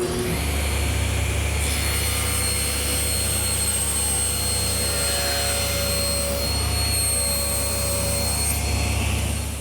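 Table saw rips a wooden front panel for a Shaker woodbox against the rip fence, a loud steady whine with a high tone and low hum running throughout the cut.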